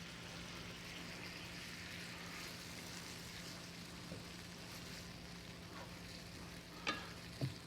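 American lamb sizzles steadily in a pan while being cooked for pad thai, a constant soft frying hiss with a few brief scraping stirs near the end.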